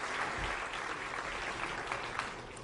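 Crowd applause at a PBA Tournament of Champions bowling semi-final, a steady broadband patter of clapping sustained throughout to encourage a struggling bowler, moderately loud with no talk.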